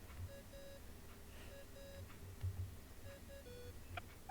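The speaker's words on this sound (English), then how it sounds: "I really hate that ringing tone." In the video game Genshin Impact, a ringing tone sounds as a repeating pattern of short electronic beeps in pairs and bursts. It is faint against a low background murmur, with no talking.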